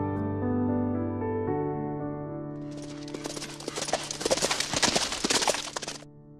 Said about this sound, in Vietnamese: anh có con ngựa quý một ngày đi được ngàn dặm